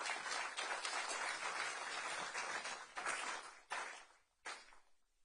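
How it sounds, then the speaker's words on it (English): An audience at a county officials' briefing after flooding breaks into steady applause that swells, then fades in a few scattered trailing claps. "Can we give our community a round of applause"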